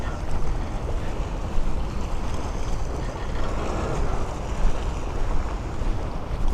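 A boat being brought in on the water at the Sheikh Jaber Al-Ahmad Cultural Centre in Kuwait, heard as a steady wash of water and wind rumble throughout, with no clear engine detail.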